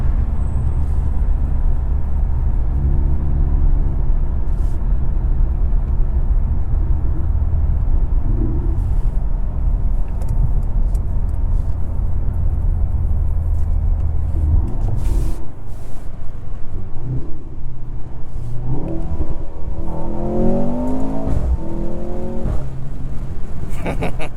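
2023 Mercedes C43 AMG sedan with a four-cylinder engine accelerating hard, a loud steady drone that climbs through the gears with brief dips at the shifts, heard close from inside the car.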